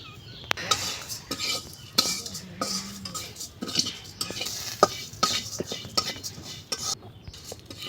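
Turmeric stirred into hot oil in a pan, with a spoon repeatedly scraping and clinking against the metal over a soft sizzle, close and irregular.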